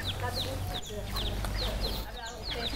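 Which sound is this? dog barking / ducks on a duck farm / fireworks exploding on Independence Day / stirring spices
ducks on a duck farm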